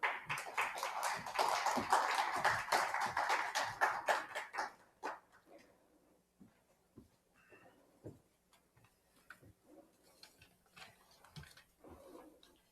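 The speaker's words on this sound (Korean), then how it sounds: "박수 부탁드립니다" Applause from an audience at the opening ceremony of a literary centenary symposium, a dense burst of clapping for about five seconds that thins to scattered claps and quiet room noise.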